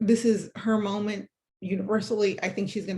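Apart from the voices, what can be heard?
No everyday noise stands out behind the speech.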